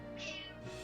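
A cat meows once in Final Fantasy XIV, a short, clear mid-pitched call rising and falling over steady game music, with no talking.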